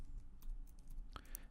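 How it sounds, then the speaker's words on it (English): Faint, close keystrokes on a computer keyboard as Java code is typed into an editor, a few scattered soft clicks over a quiet, low room hum. "So I just need to type in here"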